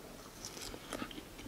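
A person bites into and chews bacon, producing a few short crisp crunches close to the microphone, with no talk over them.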